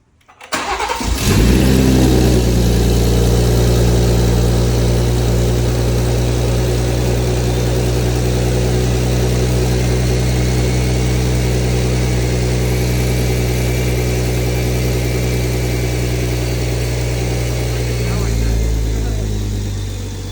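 A BMW B58 engine fitted with a top-mount turbo kit cranks and catches after a brief silence, then settles into a loud, steady idle for the rest of the clip, with a slight swell near the end.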